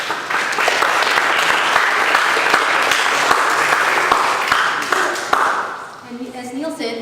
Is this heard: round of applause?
yes